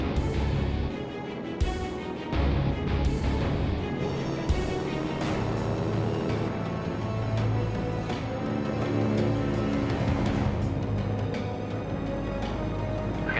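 A CL-215 water bomber runs at takeoff power down a runway, its engines producing a dense, loud, continuous roar with droning tones, broken by a few sharp bursts of noise.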